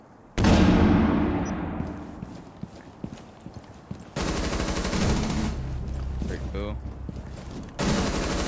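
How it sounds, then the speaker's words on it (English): Weapon fire from the Maestro gun in a shooter video game, loud bursts in several separate volleys, with game effects and some talk underneath. "I shot him a bunch with the Maestro."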